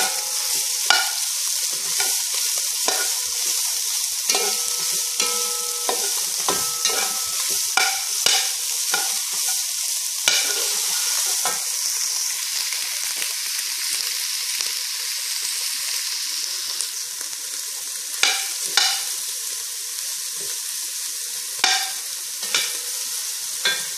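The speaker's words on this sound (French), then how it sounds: "à ce moment-là, j'ajoute l'oignon" Onion frying in a pan for pork in caramel, a steady bright sizzle with repeated soft scrapes and clicks of stirring, close and continuous without talking.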